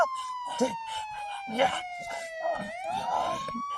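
A police siren wails with a sliding, rising and falling tone while people talk over it.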